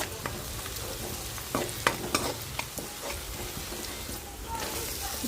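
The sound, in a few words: frying ginger-garlic tempering with turmeric in a pan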